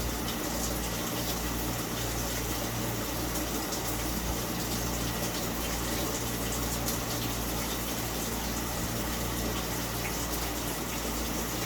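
Cold water pours steadily into a washing machine with no hot supply connected, a constant, even rushing hiss with a low pump-like hum underneath, unbroken for the whole stretch.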